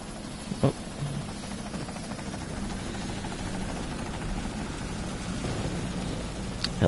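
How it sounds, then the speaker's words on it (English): Helicopter in the Deadlight video game: a steady, droning rotor rumble with a noisy hiss runs throughout at even level, with a brief thump near the start and a sharper hit at the end, no talk. "Helicopter sounds close."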